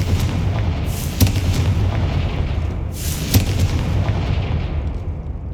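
A Confringo blasting spell explodes in Hogwarts Legacy, a steady rumbling roar of fire with two sharp booming bursts standing out, loud and alone without voices.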